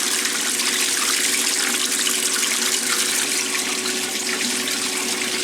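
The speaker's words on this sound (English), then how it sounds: "This is the third and final rinse that this washer" Water rushes steadily into the tub of a 1996 Maytag Dependable Care Plus washing machine during its final rinse, a loud continuous wash of flowing water with no pauses.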